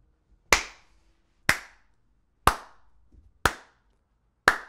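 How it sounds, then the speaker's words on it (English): Hand clapping, five single sharp claps spaced about a second apart in a slow, steady rhythm, close and clear with silence between them. "Round of applause, ladies and gentlemen."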